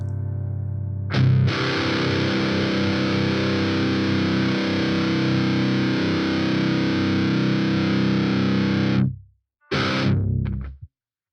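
Electric guitar plugged straight into a Vox ToneLab EX modelling effects unit, playing a loud, heavily distorted sustained chord for about eight seconds, then a short pause and a second brief distorted burst that cuts off.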